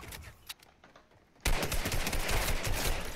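A gun in Fortnite opens up in a sudden, loud, continuous automatic burst after a brief quiet lull with a few faint distant shots.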